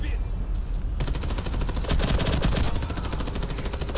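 Rapid automatic gunfire rattles in a futuristic shooter video game against elite soldiers, loud bursts of shots firing nearly nonstop after a quieter opening second.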